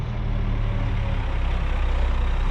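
A dump truck on an excavation site for a walking trail tips its load in a field, giving a steady low engine rumble and grinding throughout, close and loud with no talk.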